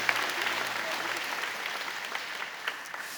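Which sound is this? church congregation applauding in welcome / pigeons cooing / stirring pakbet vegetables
church congregation applauding in welcome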